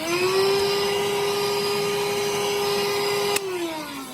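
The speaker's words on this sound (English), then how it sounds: "Of course, you gotta get the vacuum out." A vacuum cleaner runs close and loud with a steady whine, cleaning up drilling debris while LED lights are fitted to a pinball backbox. It cuts off near the end and its pitch winds down.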